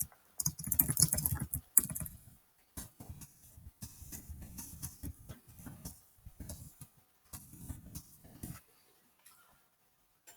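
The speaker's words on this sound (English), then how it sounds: "And then you're going to write a brief message about what you'd like to discuss with your advisor." Someone types a short message on a computer keyboard, filling in an advising appointment request. Quiet, close key taps come in irregular bursts with brief pauses between them.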